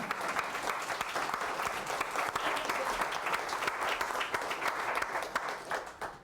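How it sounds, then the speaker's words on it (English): An audience claps steadily at a talk on a family and cemetery history, dense, even applause that fills the room throughout, tapering slightly near the end. "You want to clap for that?"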